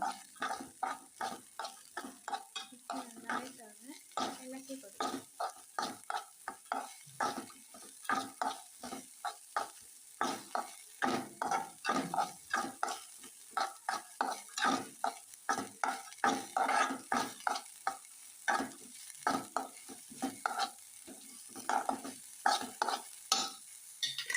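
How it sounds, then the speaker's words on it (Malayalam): Mixed vegetables with chopped capsicum are stir-fried in a pan for a Kerala-style vegetable stir fry, with rapid, rhythmic scraping strokes of a spatula repeating over a soft sizzle, close and continuous without any voices. "കട്ട് ചെയ്ത് വെച്ചിരിക്കുന്ന ചീന മരിക്ക് നമുക്ക് ഇട്ട് കൊടുക്കാം നന്നായിട്ടൊന്ന് ഇളക്കി കൊടുക്കുക"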